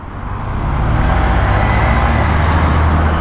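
A Honda CB125F motorcycle's 125 cc engine drones steadily during a test ride, a loud, close, continuous low rumble with wind noise that builds in the first second and then holds even.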